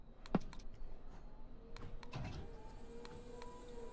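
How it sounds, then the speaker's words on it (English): Sharp plastic cockpit switch clicks in the FlyByWire A380 within Microsoft Flight Simulator, several separate snaps spread unevenly over a faint background hum, the first loudest. "It's like the clicking noises are so awesome."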